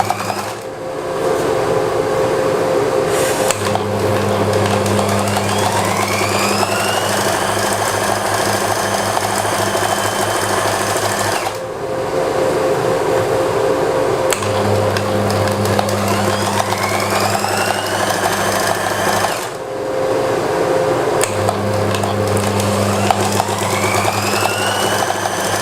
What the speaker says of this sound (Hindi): अब बाजू को आपने बंद करके सिलाई लगा लेनी है।